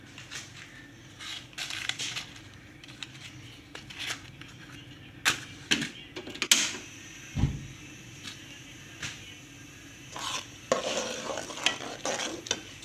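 Semolina halwa cooking slowly in a pan, with a soft background sizzle broken by irregular spoon scrapes, knocks and clatters against the pan, close by and without voices.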